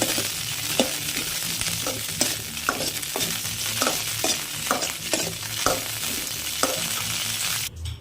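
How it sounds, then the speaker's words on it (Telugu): Green chillies fry in oil in a pan, a continuous close sizzle broken by regular scraping stirs roughly every half second to second, with no talking. "బాగా దోరగా బాగా వేయించుకోవాలి పచ్చిమిరపకాయ కూడా."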